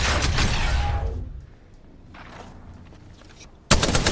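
Gunfire in the battle royale video game Apex Legends: a dense burst of shots at the start fades out, quieter game ambience follows, then a loud volley returns abruptly at the end. No voices.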